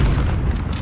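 Grenade explosion in a first-person shooter sniper-only match: a short, heavy, close boom with deep rumbling low end, loud and alone.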